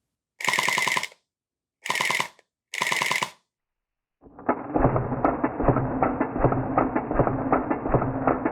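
A SplatRBall SRB400 gel blaster gearbox fires in auto mode, giving a steady, close, rapid mechanical rattle. Three short bursts come first, then a longer continuous one.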